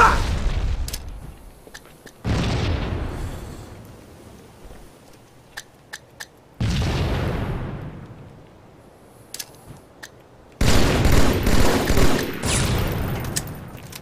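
Gunfire and grenade blasts in a first-person shooter video game come as sudden loud bursts of booms and rapid shots, separated by quieter gaps with a few isolated cracks.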